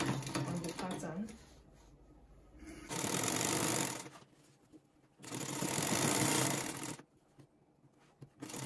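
A sewing machine stitches down a seam on women's trousers in two loud, steady bursts of about a second each, with quieter pauses between them.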